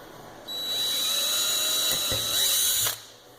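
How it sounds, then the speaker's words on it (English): A high-pitched power drill whirs steadily for over two seconds at close range, drilling vertically about 3/16 inch, with brief changes in load before it winds down, during a Walbro fuel pump kit install on a BMW N54. "we're going to drill down vertically in line with where that hole is"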